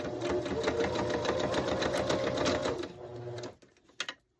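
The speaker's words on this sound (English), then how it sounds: "then you're going to sew down the other leg" A sewing machine runs steadily, stitching down the fabric leg of a candy cane cowboy ornament, then stops abruptly near the end, leaving a few faint handling clicks.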